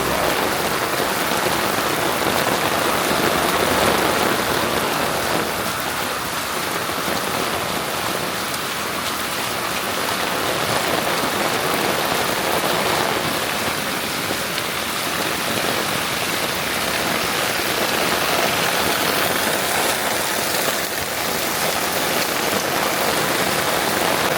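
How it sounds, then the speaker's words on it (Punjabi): Heavy monsoon rain pours down on a village street, a dense and steady roar of drops on hard surfaces that stays loud and unbroken throughout, with no voices. "ਅੱਜ ਮੀਂਹ ਕਾਫੀ ਤੇਜ਼ ਪੈ ਰਿਹਾ"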